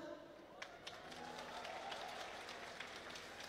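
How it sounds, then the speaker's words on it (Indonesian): Applause from an audience at a talk on literacy, a steady patter of many hands clapping at a distance, faint and continuous with a few sharper claps standing out. "Sekali lagi kasih tepuk tangan buat kita"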